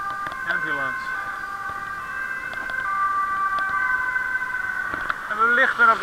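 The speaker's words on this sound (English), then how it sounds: "Ambulance." An ambulance siren on a Dutch street wails loud and close, its rising and falling tones holding steady across the whole stretch, with traffic rumble underneath.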